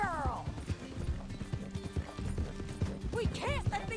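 A horse gallops in Red Dead Redemption 2, its hooves drumming in a rapid steady rhythm close by, with a whinny near the end and voices shouting over it.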